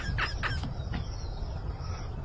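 Chicken clucking close by, a few short sharp clucks at the start followed by a softer call, over a steady low background rumble.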